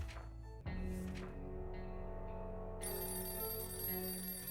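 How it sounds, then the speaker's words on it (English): A telephone rings in the video game 60 Seconds, a bright electronic bell that starts after a brief pause and carries on steadily with other game tones beneath it. "Day 14, I hear a phone. Ring, ring, who should go outside?"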